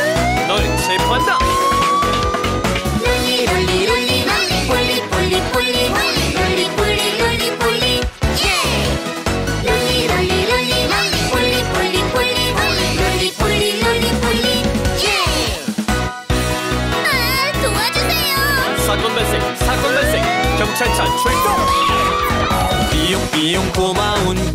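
Rising and falling police car siren wails sweep over a busy, loud children's song backing, repeating several times through the clip.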